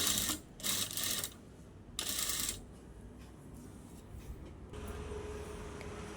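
A home sewing machine runs in short loud bursts while stitching piping onto fabric, then settles into quieter mechanical clatter and a steady hum.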